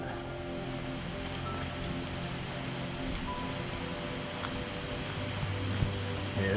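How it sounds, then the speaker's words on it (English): Ness waterfall in a country park roars as a steady, full wash of falling water, constant and fairly close, with no voices over it. "Here's a big waterfall."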